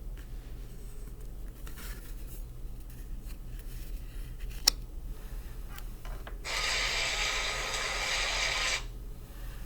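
Faint scattered clicks and rustles, then a dense papery whirr of cards being riffle-shuffled for about two seconds, close by and fairly quiet.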